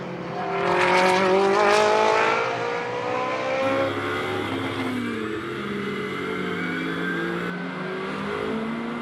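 GT race car at Moscow in Blancpain Sprint Series free practice accelerates hard into turn 1, engine climbing through gears with a loud rising wail, then shifting down and fading as it passes.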